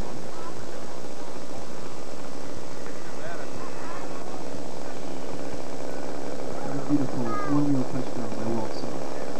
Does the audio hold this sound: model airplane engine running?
yes